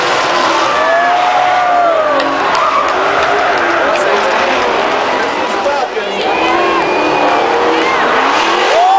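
An SRT Dodge Charger drifting at a Formula D event, its tires squealing in repeated rising and falling screeches over loud engine roar and crowd noise, with an announcer talking over it.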